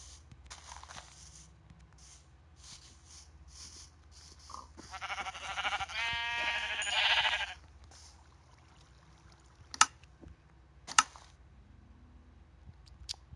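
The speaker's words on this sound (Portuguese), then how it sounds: "Tá, tem mais ovelha aqui perto." Sheep in a video game bleating once in a drawn-out, wavering call at close range, with a few soft clicks and taps around it.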